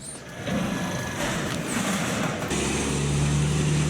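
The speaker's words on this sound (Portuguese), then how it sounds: "É de madrugada, então é caminhão descarregando, barulho danado." Truck engine on a city street at 7:30 on a Saturday morning, a steady, fairly loud diesel rumble with broadband traffic noise, settling into a low idle hum near the end.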